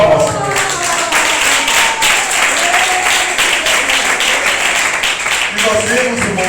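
A church congregation claps hands together loudly and continuously during a sermon, a dense, even rhythm of many hands, with voices rising over it at times.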